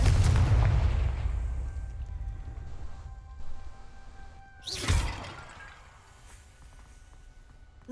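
A Confringo spell cast in Hogwarts Legacy, a fiery blast in a wizarding game: a rumbling boom opens, then a sharp burst flares midway before fading into a low, quiet ambience.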